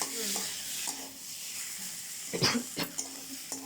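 Ginger paste stir-fried in a pan gives a steady sizzle and hiss, with a few scraping stirs near the end. The sounds are close and moderately quiet.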